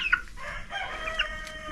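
A rooster clucks and gives short agitated calls at close range just after being caught, a few sharp bursts over steady background noise.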